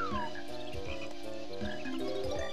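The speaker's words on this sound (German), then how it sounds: "wie die hier so vom Sound her Frösche mit integriert haben" Croaking frogs in the Banjo-Kazooie game repeat short, regular calls woven into an upbeat game melody. Both stay moderately loud and close throughout, with no talk over them.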